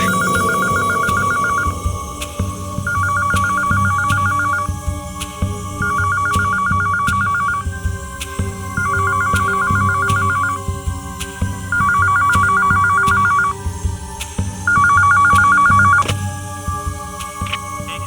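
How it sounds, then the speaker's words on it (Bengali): A telephone rings after midnight, with six evenly spaced electronic ring bursts repeating clearly over a low, steady background hum. "মাঝরাতের পরে একটা ফোন এসেছিল স্যার"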